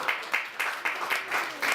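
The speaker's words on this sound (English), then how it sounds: "I'd like to give them a round of applause." An audience at a DC music event claps together in a quick, even rhythm, each clap close and distinct at roughly quarter-second intervals.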